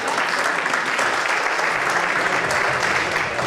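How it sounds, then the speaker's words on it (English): A crowd at an inaugural ball applauds for an honoured guest, dense sustained clapping at even loudness throughout, filling the room without pause. "join me to give a big hand applause to our mother, Sis Mariah Elliott."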